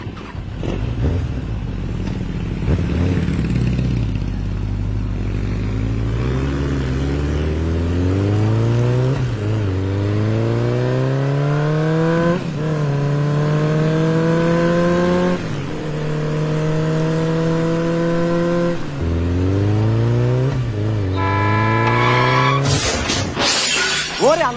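Cars racing, with loud engines revving up repeatedly through rising gear-change sweeps. The engines run continuously and end in a sharp crash-like burst.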